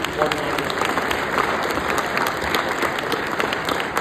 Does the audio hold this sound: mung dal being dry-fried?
no